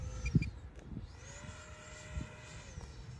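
An FMS F-16 64mm RC jet flies overhead in wind. Its faint, thin ducted-fan whine rises and falls in pitch at a distance, with light wind buffeting nearby.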